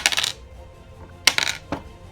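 Dice for the tabletop wargame Deadzone are rolled in short, close rattles: a quick clatter at the start, then a sharper tumble and a final small click as they settle, with no talking.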